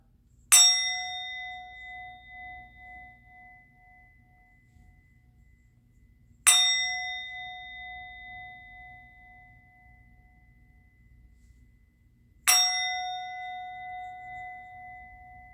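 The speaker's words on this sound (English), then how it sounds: "I'm going to ring the bell." A single resonant bell is struck three times at even, slow intervals, each bright clang ringing out and decaying slowly into silence.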